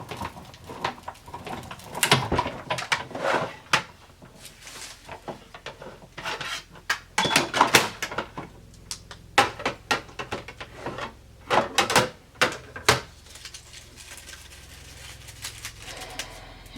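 A paper die-cutting machine rolls recycled phone book pages through, giving a series of irregular scraping, rasping and clunking bursts across about fifteen seconds, close and moderately loud.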